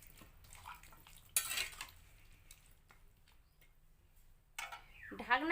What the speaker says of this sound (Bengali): পরিমাণ মতো হলুদ গুঁড়ো দিয়ে দিচ্ছি, পরিমাণ মতো লবণ দিয়ে দিচ্ছি, একটু নেড়ে দিচ্ছি।